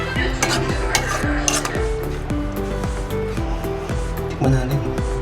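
Sugar being stirred into hamonado in a pan on the stove, with repeated scraping and clinking strokes of a utensil against the pan over a steady sizzle, fairly close.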